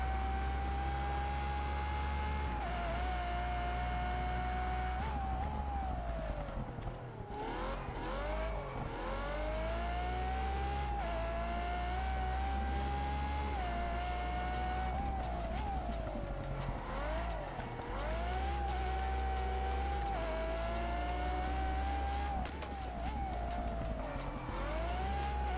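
Car engine in The Crew Motorfest racing game, revving loud and close in rising sweeps that drop at each gear change and climb again, with brief tire squeals mixed in.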